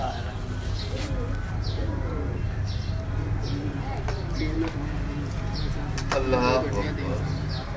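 Pigeons from a rooftop flock coo softly and repeatedly while wing flutters and a voice mix in, with birds taking to the air as kites circle overhead.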